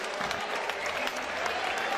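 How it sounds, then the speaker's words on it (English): A boxing crowd applauds steadily after a fight decision, a dense wash of clapping throughout with a faint voice underneath. "Come on, give a round of applause."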